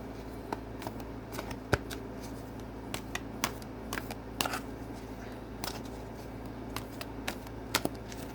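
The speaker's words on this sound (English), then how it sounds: "So we're going to be shuffling the cards appropriately, as we should." Tarot cards are shuffled continuously by hand at close range, a steady papery riffle and slide broken by sharp snaps and taps.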